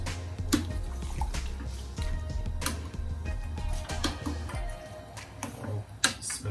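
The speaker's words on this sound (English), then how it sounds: "And you just want to give that a stir now guys." A spoon stirs fruit mixed with cinnamon powder, vanilla and mixed spice in a bowl. It makes steady, close, wet clicking and scraping sounds with occasional sharper taps against the bowl.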